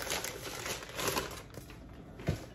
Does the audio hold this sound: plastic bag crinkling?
yes